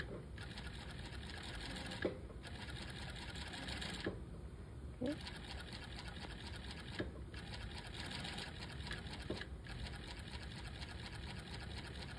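A flat seamer sewing machine stitches a flatlock seam in rapid, steady mechanical bursts, stopping and restarting several times with brief pauses between runs, and a faint voice under it.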